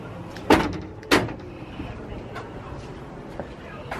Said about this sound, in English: let me show you guys how door poppers work